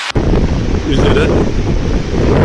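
Strong storm winds roar across a coastline with crashing waves, a loud steady buffeting of wind against the microphone that masks most other detail, with no talk.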